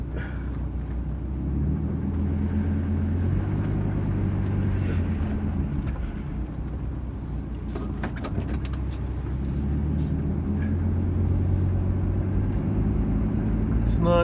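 A car drives along a winter road in Nova Scotia, a steady low engine and road rumble heard from inside throughout, with some faint rattles and bumps along the way.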